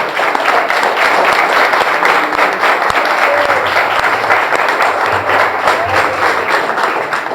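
A church congregation applauds loudly during a worship service, a dense and steady wash of many hands clapping that continues without a break.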